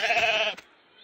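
A cartoon sheep in a Sesame Street measuring game lets out one loud, clear half-second bleat, which fades quickly into near silence.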